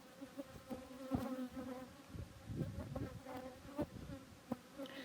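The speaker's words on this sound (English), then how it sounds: "let's go into this hive and check on the honey that the bees are making" Soft buzzing of honey bees drifting around an opened hive with its cover removed, with faint clicks and light handling noises scattered through the quiet.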